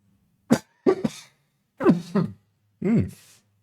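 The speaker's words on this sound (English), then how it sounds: "I am a little bit sorry if that coughing is getting through a little." A man's harsh coughing close to the microphone, in several short separate bursts: a single cough, then a rough double, another pair, and a final drawn-out cough, with silent gaps between them.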